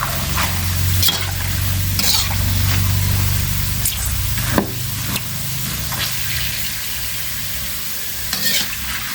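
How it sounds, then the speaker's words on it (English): Tapioca pieces deep-frying in hot oil, being turned: a steady close sizzle with occasional knocks and scrapes of a utensil against the pan, no talk. "You turn so that all of them are burned in the oil nicely."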